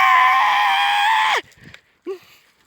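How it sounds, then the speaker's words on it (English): A loud, sustained high-pitched scream as a sound effect within a story reading, lasting over a second before cutting off abruptly, followed by quieter scattered sounds and a brief rising squeal. "Then, the silence was broken as Riley let out a scream."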